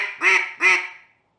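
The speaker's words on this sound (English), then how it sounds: "then you start adding a series of quacks," Two quick quacks blown on a duck call as part of a cadence, the pair close and loud, the second fading into silence.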